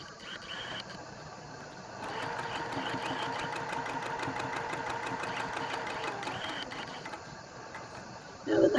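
A sewing machine stitches a Dutchman's puzzle quilt block, a steady rapid mechanical whir with a fine regular needle rhythm that picks up at about two seconds and runs on before easing near the end, close and alone with no talking.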